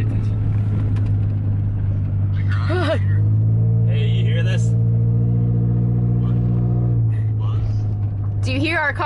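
A car running loud after its catalytic converter was stolen, the exhaust roaring with a steady low drone throughout while people talk over it.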